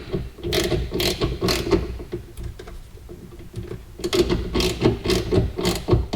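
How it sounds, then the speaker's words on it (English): Ratchet clicking in quick repeated bursts while snugging down a 15mm bolt on a Dodge Demon 170 in a garage, with a short pause mid-way before the clicks resume, close and fairly loud. "I'm going to come back and tighten or snug down that 15mm bolt"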